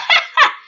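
Two sharp, high yips from the headmistress's escaped dog in the Amour sucré game, close and clear in quick succession with no talk over them.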